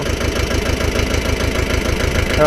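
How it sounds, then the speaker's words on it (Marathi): A tractor engine idles close by, a steady low diesel throb with an even pulsing rhythm that holds for the whole stretch. No voices. "एक राऊंड अजयनं पण पेरून ट्रॅक्टर चालवून बघितला फर्स्ट टाईम"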